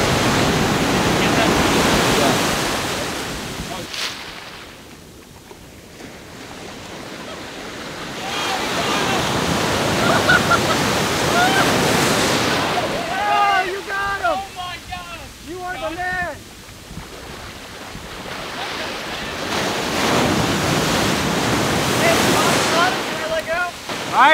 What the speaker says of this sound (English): you got the waves crash